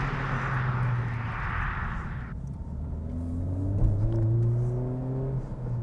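A 2021 Honda Civic Type R Limited Edition, front-wheel drive with a stick shift, accelerates at full throttle, its engine droning loud from inside the cabin and climbing in pitch, dropping briefly at a shift before rising again.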